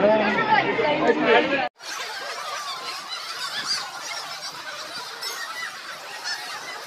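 Ducks and geese calling at Mumbai Zoo: a dense, continuous chatter of honks and quacks fills the air after a brief stretch of a person talking, and the flock noise stays steady to the end.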